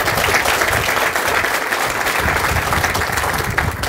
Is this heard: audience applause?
yes